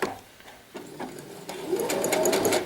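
A sewing machine running a simple straight stitch while making an infinity scarf, a close, steady mechanical whirring that starts and stops briefly before settling into a continuous, louder run.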